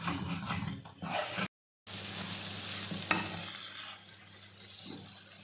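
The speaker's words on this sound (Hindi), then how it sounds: "जी ये मैंने ना हलवा इसमें भून रही हूँ, और वो जितना भी घी इसमें डाला था वो सारा उसने ना सूजी ने अब्जॉर्ब कर लिया है।" Semolina roasting in ghee with sugar for suji halwa, giving a soft, continuous frying hiss with stirring scrapes, briefly cut to silence before resuming steadily.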